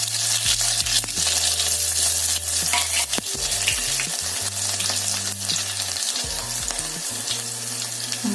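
Cumin seeds and crushed garlic frying in hot oil, a loud continuous crackling sizzle with occasional utensil taps, while a low steady hum drones in the background.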